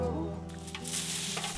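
Dried radish greens rustle and crackle crisply as they are handled close by, a steady dry crunching texture under a voice speaking.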